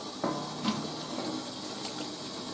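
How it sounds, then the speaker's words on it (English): Hot tap water runs in a steady stream to rinse a baking sheet with baked-on food, a soft continuous splash with small clatters, close and moderately quiet. "Again with the hot water. Let's do a quick rinse."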